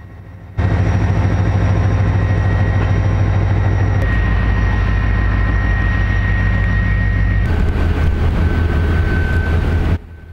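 A Keokuk Junction Railway GP20 diesel locomotive idling and working while coupling grain cars near the La Harpe shop, a loud steady engine drone with tonal whine that starts abruptly and cuts off near the end.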